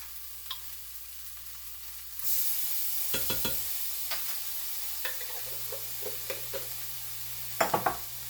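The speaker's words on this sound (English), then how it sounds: "Fry this up for another minute or so" Minced garlic fries in a pan with a steady close hiss of sizzling, punctuated by several sharp scraping stirs and a quick cluster of knocks near the end.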